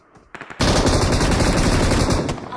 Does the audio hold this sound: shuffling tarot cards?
no